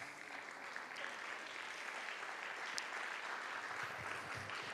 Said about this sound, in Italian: applauso ai nostri ospiti